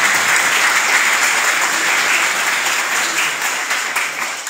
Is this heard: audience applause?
yes